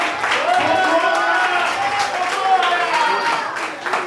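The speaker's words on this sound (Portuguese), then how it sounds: "Pode aplaudir o nome do Senhor com alegria." A church congregation at a Sunday communion service claps along with joy, rhythmic hand claps blended with voices and crowd noise filling the room.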